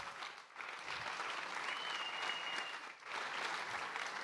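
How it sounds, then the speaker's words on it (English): A conference audience applauds startup presenters with steady, fairly faint clapping that dips briefly twice before carrying on. "stand up and give an applause to all the presenters so far and our fearless host"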